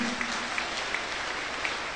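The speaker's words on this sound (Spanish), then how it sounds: "Los niños, denmele un aplauso al Señor." Applause from a church congregation, children included, during a Spanish-language sermon on the Resurrection, a steady soft wash of clapping at a modest distance with a few sharper claps standing out.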